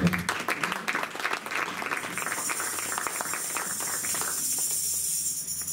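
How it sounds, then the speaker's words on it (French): A church congregation at a Saturday seminar applauds and cheers for God, a steady wash of clapping and shouts at moderate distance that holds for several seconds, with a brief voice near the start. "Est-ce qu'on peut acclamer un peu pour le nom de Dieu?"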